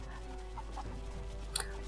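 A chicken in Rise of the Tomb Raider gives a few short, soft clucks over a steady low ambient hum.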